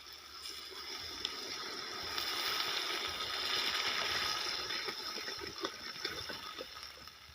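Water pours steadily into a cooking pot for rice, a continuous hissing gush that swells in the middle and carries light clinks, with no talk.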